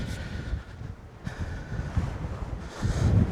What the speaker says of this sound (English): boy, Jesus, it's fucking windy